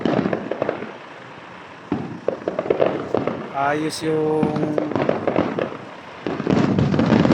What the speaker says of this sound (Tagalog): May fireworks pa.